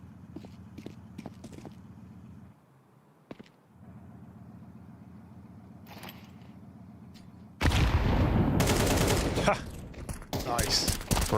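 Glock pistol shots in a Counter-Strike esports match, a few sharp isolated cracks over a quiet hum at first, then a loud dense burst of overlapping gunfire and crowd noise near the end.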